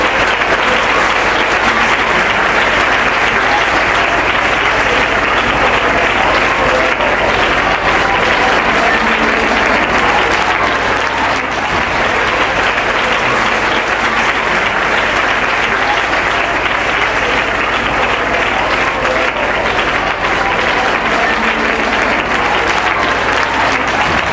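Sustained, loud audience applause fills a hall at a student talent award ceremony, steady dense clapping that continues without pause for over twenty seconds.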